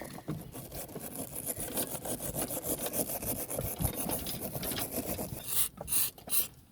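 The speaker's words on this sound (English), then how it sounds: "hit it overall with WD-40, wire brush" A wire brush scrubs a boat's Morse control cable after WD-40 is sprayed on. It makes quick, close, steady scratchy strokes in a continuous rhythm that breaks into a few separate swipes at the end, with no talking.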